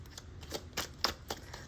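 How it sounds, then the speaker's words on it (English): Tarot cards being shuffled by hand, a quiet series of soft riffling bursts spaced irregularly, five or six papery flicks close by with no talk. "let's just shuffle one more time."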